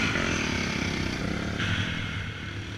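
A dirt bike engine drones loud and close as the rider pounds through a whooped-out woods trail in the Pine Barrens. The engine holds a steady roar with a slight shift in pitch partway through.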